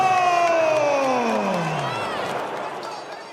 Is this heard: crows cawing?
no